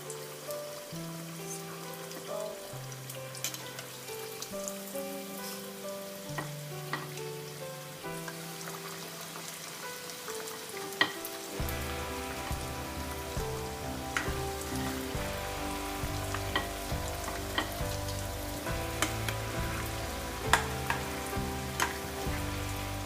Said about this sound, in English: Now I'm going to deep fry this.